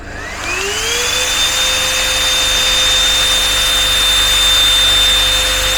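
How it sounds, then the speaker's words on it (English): A vacuum cleaner hose is attached to a storage package. The motor winds up to a loud, steady whine with a rising pitch at the start, then holds an unbroken roar with no talk while the air is sucked out. "You turn the vacuum cleaner on and look at this."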